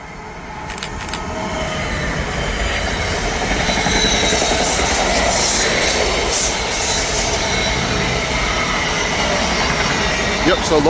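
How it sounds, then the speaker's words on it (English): An Amtrak train of Airo-type cars passes on the express track of the Northeast Corridor at Metropark during the evening rush, a building roar of wheels and rail noise that swells and holds steadily for the whole stretch. "it looks like we got Aero 3s on the express track now"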